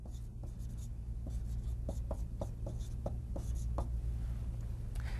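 A pen writes a datum axis label on an engineering drawing, giving a series of short, close scratchy strokes in an uneven rhythm over a low steady room hum.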